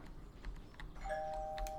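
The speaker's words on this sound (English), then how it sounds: "looks like the doorbell there." A doorbell chimes once in a home, a clear ringing tone that sustains after a few faint knocks or clicks in a quiet room.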